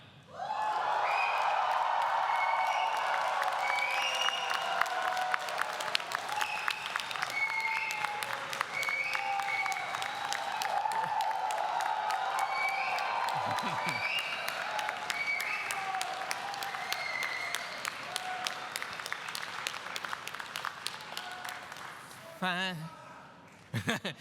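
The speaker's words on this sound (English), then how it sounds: "give them the biggest cheer that you can" Audience at a university graduation ceremony in Greenwich bursts into sustained, loud applause and cheering that fills the hall for over twenty seconds, with whoops over dense clapping before it cuts off abruptly.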